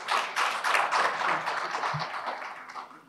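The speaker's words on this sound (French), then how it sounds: "Donc je pense que ça s'applaudit." An audience applauds at a business event on private-sector development in West Africa, a steady dense wash of clapping from many hands lasting a few seconds, heard fairly close.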